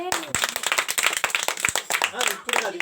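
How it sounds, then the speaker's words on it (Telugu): A group at a Christmas celebration claps together in a quick, steady rhythm, sharp close hand claps continuing under voices. "గట్టిగా చప్పట్లు కొట్టాలి అందరు."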